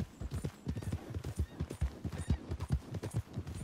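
Horse hooves clip-clopping in Red Dead Redemption 2, a quick regular rhythm of close, distinct hoofbeats at a steady walk or trot, fairly quiet and heard alone.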